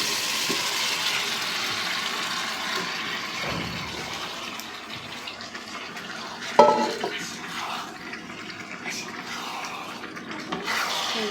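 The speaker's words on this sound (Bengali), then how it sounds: "এখন আমি ওই মাংসটা ম্যারিনেট করা সেটা আমি ঢেলে দিব।" Marinated duck meat is tipped into a pan of browned onions with a wet sloshing rush and a sharp clatter of metal midway, followed by soft stirring and frying noise.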